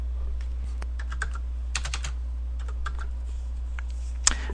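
Coordinates being typed on a computer keyboard: scattered light key taps at an uneven pace over a constant low hum, ending with a firmer keystroke.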